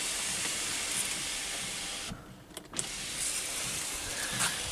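A Mazda 6 sunroof under repair runs on its electric motor with a steady whirring hiss, which drops away briefly before a click and then continues at moderate volume, with no one speaking.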